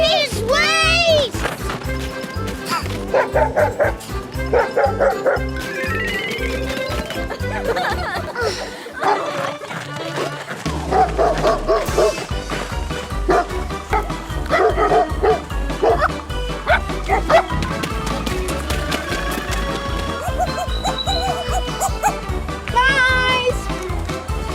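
Puppies on a farm bark and yip repeatedly in quick, high bursts, mixed with laughter and lively talk from children, with a busy background throughout and a brief quieter gap midway.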